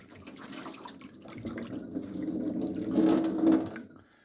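Water poured off washed tomato seeds from a container into a sink, a steady soft splashing pour that builds and grows louder before stopping near the end.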